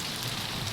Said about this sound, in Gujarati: ઓહો, વરસાદ તૂટી પડ્યો